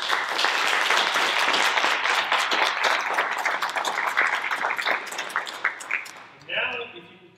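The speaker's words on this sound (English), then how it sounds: "So if you can join with me in applause for our two new" Warm applause from a convocation audience welcoming two new faculty members, sustained dense clapping filling the hall for several seconds before tapering off into a few scattered claps and a voice at the end.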